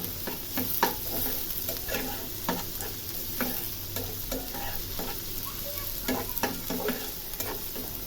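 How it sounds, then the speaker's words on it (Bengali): Onions for a chicken and potato korma being stirred as they fry in a pan, a steady sizzle broken by repeated scraping strokes of the spoon, close and alone with no talk. "পেঁয়াজটাকে একটু নাড়াচাড়া করে নিচ্ছি।"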